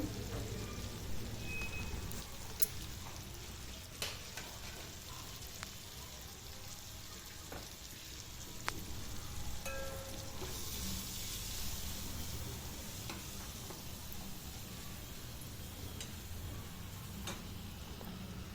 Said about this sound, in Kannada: ಇವಾಗ ಕಟ್ ಮಾಡಿರೋದು ಹಸಿ ಈರುಳ್ಳಿನ ಇಟ್ಟಿದ್ನೆಲ್ಲ ಕಟ್ ಮಾಡಿ ಅದನ್ನು ಹಾಕ್ತಾಯಿದ್ದೀನಿ